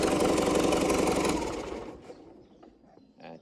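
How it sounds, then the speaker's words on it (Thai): A New Holland TD95 tractor engine with a loose turbo shaft, burning oil, runs with a loud steady idle, then is switched off and dies away, leaving faint clicks and a short rattle at the end. "เดี๋ยวผมดับเครื่องก่อน"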